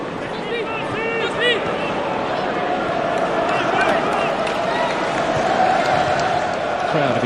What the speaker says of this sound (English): The crowd have enjoyed themselves here tonight, but you can tell now from the drop in volume